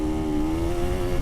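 A dirt bike engine holds a steady, buzzing drone at a fairly constant pitch, close and loud, at an outdoor jump session with no talking.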